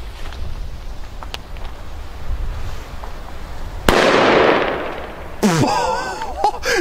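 A sharp, loud bang from a Chinese firecracker erupts out of quiet crackling on New Year's Eve, followed by a fizzing hiss and a second burst with whistling, sputtering crackle.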